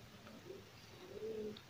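Soft cooing from a Jawa Gresik racing pigeon, a few low murmuring coos close by in a quiet setting with faint background hiss.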